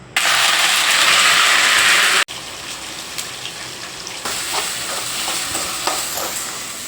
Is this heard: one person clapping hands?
no